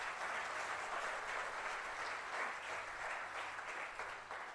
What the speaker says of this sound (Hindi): मैं चाहता हूं कि एक बार आप उन सब लोगों के लिए भी तालियां बजाएं।